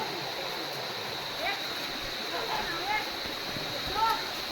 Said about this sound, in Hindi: देख पा रहे होंगे झरना बहता है यहाँ